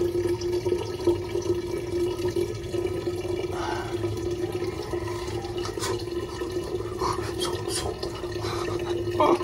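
Tap water runs steadily into a basin being filled for a pigeon bath, a continuous splashing gush with occasional drips and clinks, close by and without talk.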